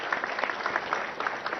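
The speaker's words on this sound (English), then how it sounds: "I think that deserves a big round of applause for the CP Cyberabad." Audience applause at a police commissionerate inauguration event, a brisk burst of many hands clapping together, loud and steady throughout, with no talk over it.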